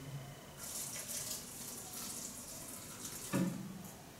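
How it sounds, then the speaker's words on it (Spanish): Water poured into bread dough for egg bread in a mixing machine, a steady running splash lasting several seconds with a brief louder burst near the end. "Échale medio cuarto de agua"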